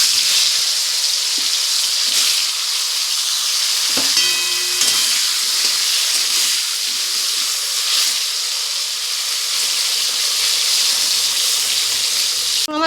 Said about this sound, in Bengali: তেল দিয়ে দিয়েছি, দিয়ে দেবো বেগুন